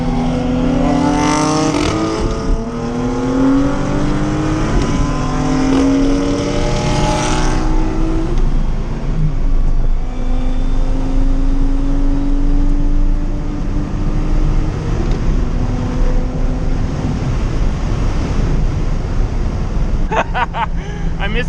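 A VR30-swapped Nissan 370Z accelerates hard through the gears, its engine note climbing and dropping across shifts, loud and close for a sustained stretch with rushing road and wind noise.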